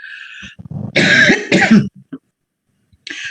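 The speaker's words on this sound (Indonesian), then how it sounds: "saya lagi agak batuk" Two loud, harsh coughs close to the microphone from a presenter at a virtual briefing, each a rough burst, with brief speech before them and after a pause.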